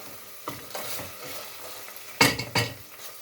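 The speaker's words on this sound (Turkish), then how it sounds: "Kıymamız gördüğünüz gibi soğanla birlikte güzel kavruldu" Minced meat and onion fry in a pan with tomato paste, softly sizzling while a spoon stirs and scrapes in short bursts, with two louder scrapes near the end.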